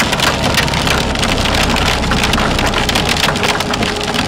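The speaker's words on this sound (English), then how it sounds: "nickel to quarter-size hail falling. Right now, you can kind of hear it hitting the windshield right there" Nickel- to quarter-size hail pelts a car windshield during a severe Oklahoma storm, a loud dense rattle of rapid hard impacts drumming continuously and close up, with no speech.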